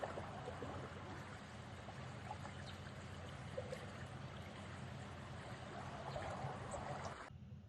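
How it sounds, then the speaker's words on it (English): Running water at Lost Lake, a faint, continuous rushing and trickling that holds steady throughout and cuts off abruptly at the end. "you can hear the running water because I took this at Lost Lake"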